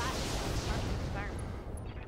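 Acid ammo weapon fire from a mech in the Roguetech game: a rumbling barrage of heavy impacts and blasts under a dense, steady roar, fading slightly toward the end, with speech-like sounds mixed in.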